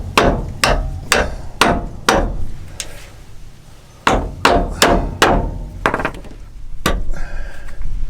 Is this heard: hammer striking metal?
yes